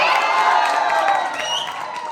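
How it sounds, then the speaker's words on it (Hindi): An audience at an annual day celebration of a computer education institute cheers and claps loudly, with shouting voices and whoops over a dense crowd roar. "तालियां बजाइए"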